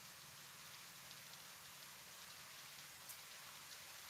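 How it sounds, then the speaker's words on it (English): Steady rain falls outside in an even, continuous hiss with a few faint drop ticks, and no one speaks. "Now it's raining again."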